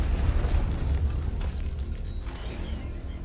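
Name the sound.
controlled explosion of bomb payload in Batman: Arkham Knight video game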